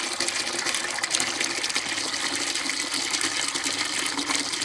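Water gushes steadily out of a tipped 5-gallon bucket in a backyard aquaponics setup, making a loud, continuous splashing rush that carries on without a break and with no voices.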